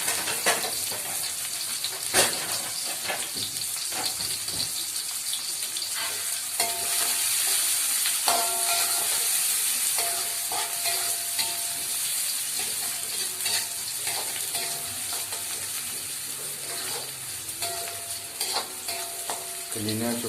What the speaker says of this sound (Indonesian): terus digoreng bumbune iki mau.